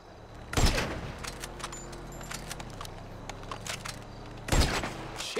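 Gunfire at target practice in GTA V, two loud close bursts of rapid shots separated by a few quieter scattered shots and mechanical clicks.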